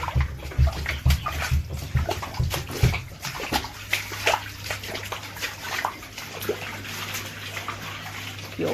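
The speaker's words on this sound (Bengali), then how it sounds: "ঘরে জল ঢুকে গেছে" Floodwater sloshes and splashes inside a house after Cyclone Remal. The water gives a continuous close rush with frequent irregular splashes and watery knocks. A low hum runs underneath.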